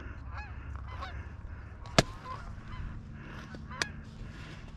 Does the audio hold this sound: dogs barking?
no